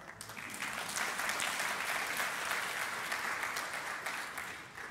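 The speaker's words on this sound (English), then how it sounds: "yeah, you can clap." A church congregation breaks into sustained applause, a dense, steady wash of many hands clapping together that holds for several seconds before easing slightly at the end.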